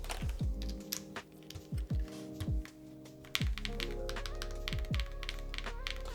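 Typing on a mechanical keyboard fitted with Mode keycaps in a Mode Loop build, a run of close, deep clacky keystrokes in irregular bursts over a faint background hum.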